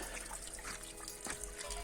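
Water from a small 12-volt garden pump running a waterfall pours and trickles steadily, a quiet continuous splash with faint low hum underneath.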